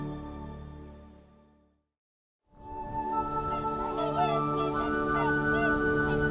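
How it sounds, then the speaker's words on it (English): A large flock of whooper and Bewick's swans calls at wetlands, a dense overlapping chorus of honking and bugling notes rising out of silence and continuing steadily, with no talk. "Thousands of hooper swans and Buick swans arrive from northern Europe and Russia"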